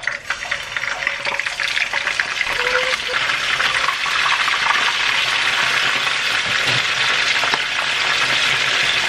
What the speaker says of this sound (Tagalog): Habang nagpiprito ako